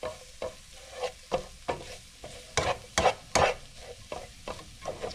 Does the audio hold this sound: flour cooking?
yes